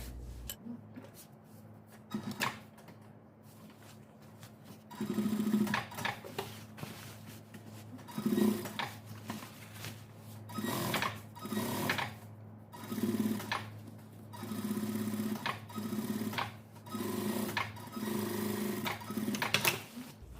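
A sewing machine stitches seams on a windbreaker jacket, running in several close, steady bursts with brief pauses between them, and no one speaks.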